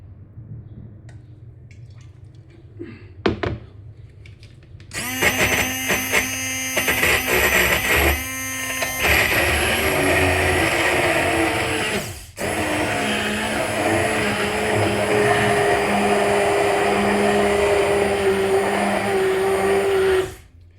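An immersion blender whirs loudly while mixing larch pesto, starting after a few quiet clicks and running steadily with a brief pause midway before starting again.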